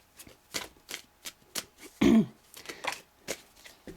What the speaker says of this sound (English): Let me pull a card for the Two of Swords, please.